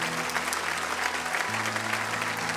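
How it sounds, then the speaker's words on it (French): A church congregation applauds together in a dense, steady clapping that fills the room, close and continuous from start to finish. "Est-ce qu'on pourrait encore une fois simplement l'applaudir"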